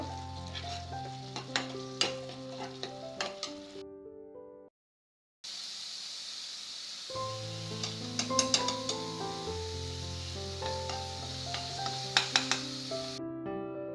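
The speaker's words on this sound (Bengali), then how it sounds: "এখন এই মশলাগুলো ভালোভাবে কষিয়ে নেব" Spices with garlic and ginger paste fry in a pan for hotel-style chicken soup, a continuous sizzle with stirring clinks, a short silent break midway and steady tonal sounds underneath.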